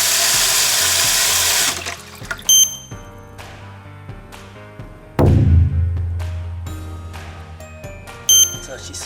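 A hair-washing shower faucet at a washbasin runs with a steady hiss for under two seconds, then shuts off, followed by clinking, ringing tones.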